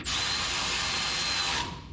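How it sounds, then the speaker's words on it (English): A power tool whirs loudly and close for about a second and a half, then cuts off abruptly. It is used during repair work on an old vehicle's engine shroud. "We can even use power tools."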